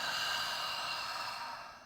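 A single soft, breathy exhale during a guided breathing exercise, a gentle airy hiss close to the mic that tapers off toward the end, with no talking.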